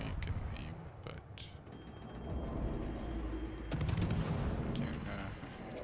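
Gunfire in a video game: a loud blast near the start, then a sustained stretch of shooting noise, with a sharp, broad crack about two-thirds through, all heard close.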